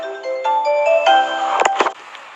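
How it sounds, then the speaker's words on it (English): A mobile phone ringtone plays a bright, stepped electronic melody, loud and close, for about two seconds before cutting off amid some rustling. "That's my phone. That's my fucking phone."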